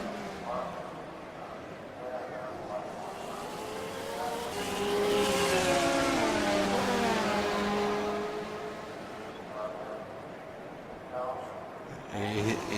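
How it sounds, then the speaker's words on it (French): Ferrari race cars at Sebring in a racing video game, engines droning and swelling as the cars run close together, with a commentator talking over them throughout. "On peut suivre là les deux Ferrari qui sont assez proches."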